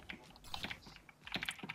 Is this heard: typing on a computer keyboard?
yes